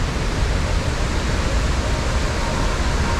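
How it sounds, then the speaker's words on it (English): Chitrakoot waterfall gushing at top speed, a steady, loud broadband roar of falling water that continues unbroken from start to finish with no talk. "One can truly understand the power and glory of a nature through a waterfall gushing in a top"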